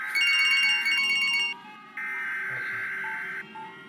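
A cell phone rings inside the Siren Head video game, a steady electronic tone in two long bursts separated by a short gap, fairly faint with a low background hum.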